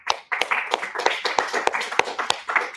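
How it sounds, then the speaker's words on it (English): Small audience at a course pitch event claps sparsely, a few distinct close hand claps in a loose, uneven rhythm rather than a full crowd wash. "So a round of applause for him."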